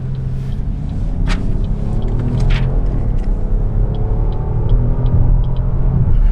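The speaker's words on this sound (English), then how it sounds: "All right, let's see what this engine's got." A 2014 Buick LaCrosse engine pulls steadily under acceleration, a loud, continuous low rumble with rising harmonics that stays dense and close for several seconds, with no talk.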